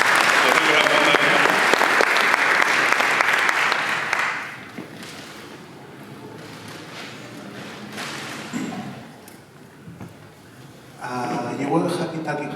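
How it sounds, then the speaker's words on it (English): Audience applause at a security conference, loud dense clapping for about four seconds that fades out, followed by talking and some thuds, with the crowd noise rising again near the end. "So give a round of applause for that."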